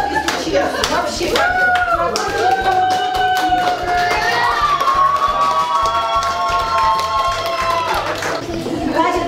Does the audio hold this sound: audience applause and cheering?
yes